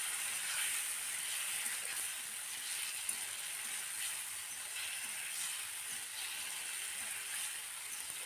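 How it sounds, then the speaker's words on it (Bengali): Ground spice paste sizzles and hisses with fried potatoes in a pan, a steady, fairly faint frying sound with light scraping and stirring, no one speaking. "এখন এটাকে আলুর সাথে একটু সময় কষিয়ে নিতে হবে।"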